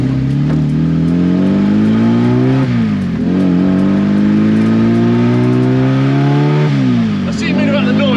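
A 360bhp rear-wheel-drive Mini with a turbocharged K20 engine pulls hard, its loud engine note climbing steadily through the revs with two gear changes, heard from inside the cabin while people talk.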